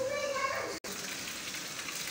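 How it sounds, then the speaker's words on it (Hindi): Garlic and ginger browning in hot oil for a chicken karahi, a steady broadband sizzle with a brief cut partway through, close and continuous with no talk. "ये हमारा लहसुन अदरक ब्राउन हो रहा है"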